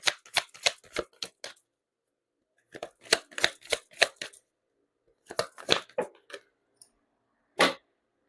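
A deck of tarot cards is shuffled nearby in three quick rippling bursts with short pauses between them, then one final crisp snap of the cards.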